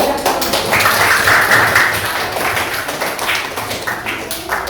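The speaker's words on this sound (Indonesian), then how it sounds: "Ya, tepuk tangan." Classroom applause as students clap together after a group presentation, a steady patter of hands lasting a few seconds, fairly close and loud.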